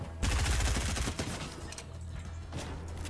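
Rapid gunfire from a P90 in a shooter video game rattles out in a loud dense burst, then trails into scattered shots and echoing noise.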